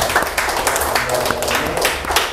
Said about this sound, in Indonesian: Kita berikan aplaus kepada narasumber saya